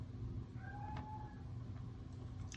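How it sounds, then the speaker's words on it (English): Pet cat crying indoors to be let outside, a faint drawn-out meow with a softer follow-up, distant and low over a steady room hum. "My cat just realized he's been left inside. So he's going to cry now"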